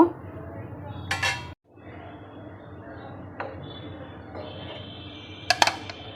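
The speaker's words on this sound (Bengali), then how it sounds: "এখন ঢাকনাটা খুলে নেব।" A lid lifted off a pot of boiled potatoes in a home kitchen gives a couple of sharp metallic clinks and a brief scrape, close and clear over a quiet room.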